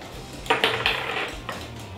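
Eggs with sugar and salt whisked in a bowl: a short run of bright metallic clinks and taps against the bowl, several quick strokes close by, with no talking.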